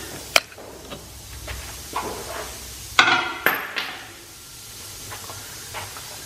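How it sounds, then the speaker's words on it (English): A hammer strikes the top of a ball joint press fitted to a Jeep Grand Cherokee's lower control arm, giving a few sharp metallic bangs, with one hard ringing hit and smaller knocks around it in a quiet garage. "And then hit the top of the press. So up here, for the hammer."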